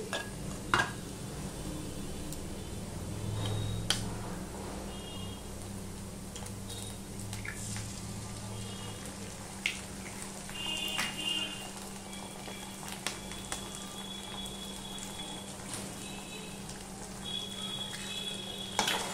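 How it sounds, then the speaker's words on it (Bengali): Two eggs frying in oil for egg paratha: a steady, soft sizzle with a low hum underneath, broken by occasional light clinks and scrapes of a utensil against the pan. "ডিম দুটো দিয়ে আবার মিশিয়ে নিয়ে একটুখানি ভেজে নেব"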